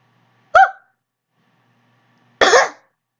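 A person gives two sharp, isolated coughs close to the microphone, spaced about two seconds apart in near silence, the second longer and rougher than the first.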